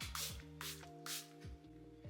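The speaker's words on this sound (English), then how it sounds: "And then I'll spray my priming spray." Makeup priming spray mists the face in three quick, evenly spaced puffs. Steady background music plays underneath, with no talking.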